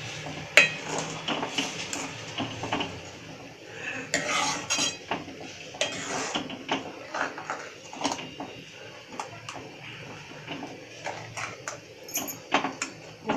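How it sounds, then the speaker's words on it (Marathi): Curry mixture stirred in a pot with a spoon, bursts of metallic scraping and clinking against the pan repeating irregularly, close and moderately loud with no talk. "हे मिश्रण पूर्ण असं चांगलं ढवळून घ्यायचं।"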